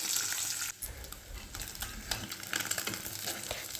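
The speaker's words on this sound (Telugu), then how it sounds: "పెనం పెట్టుకొని కొద్దిగా ఆయిల్ పసుపు వేసుకొని ఎగ్స్ వేయించుకుని తీసి పక్కన పెట్టుకోవాలి" Eggs frying in a pan with a little oil and turmeric, giving a faint, steady sizzle with soft stirring scrapes and brief dips, with no voices.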